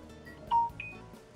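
Electronic phone alert tones go off twice in quick succession, a short beep followed by a higher one, faint against a quiet room background during a Final Fantasy XV gaming session.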